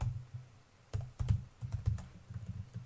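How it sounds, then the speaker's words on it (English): Typing on a computer keyboard: irregular bursts of close key clicks and thumps, slow and uneven with short pauses, and no voices. "I'm painfully slow at typing."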